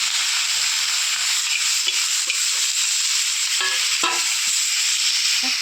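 Steady, loud sizzle of garlic and ginger frying fills the clip, with a few scraping stirs of a utensil in the pan partway through.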